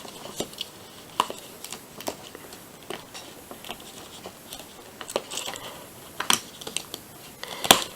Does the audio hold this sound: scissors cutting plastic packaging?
yes